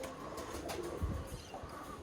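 Birmingham Roller pigeon cocks in a loft with dowel perches and wire floors give low, soft coos, one fuller coo near the middle over a steady background hum.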